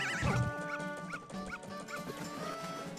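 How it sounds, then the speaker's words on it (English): A small dog in The Legend of Zelda: Majora's Mask gives a run of high, yipping barks and whimpering squeaks, repeated every half second or so over game music, close and clear, with no talking. "Hello, little dog."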